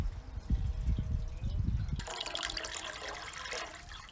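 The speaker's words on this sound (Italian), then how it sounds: "andiamo a riempire il samovar con l'acqua" Water pours into a Tula samovar: after a couple of seconds of low rumbling, a steady, close splashing rush begins and fills the rest of the clip.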